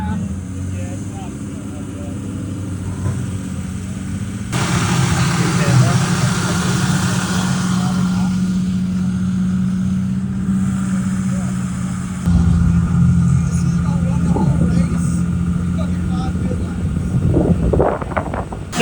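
A vehicle engine idles steadily close by, rumbling low and constant, with wind buffeting the microphone and people talking over it.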